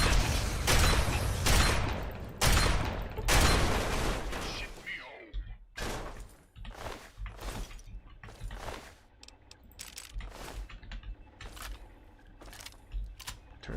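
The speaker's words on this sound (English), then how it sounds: "Turrets all around here." Gun turrets firing in Fallout 3, dense bursts of loud sharp shots in the opening seconds followed by sparser single cracks and clattering mechanical impacts, close and punchy.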